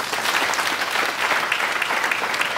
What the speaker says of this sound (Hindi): ताली हो जाए अपने आपके लिए भाई